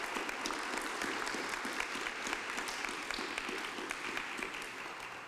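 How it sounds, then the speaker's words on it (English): An audience claps steadily and warmly for the artist Basim Magdy at a museum talk, a dense sustained round of applause filling the room without any voices over it. "If we could have a little round of applause for this fantastic artist."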